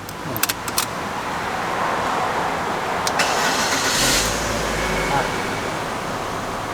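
A Chevrolet Cruze with an MT80 engine control box and its immobilizer disabled: a few key jingles and clicks, then the engine cranks, catches and settles into a steady low idle in a workshop, with some talk nearby.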